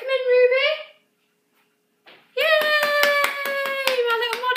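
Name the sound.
applause for a child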